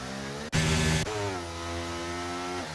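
A racing lawnmower engine drones steadily at a constant pitch, with a brief louder surge as one passes close before settling back into a sustained hum.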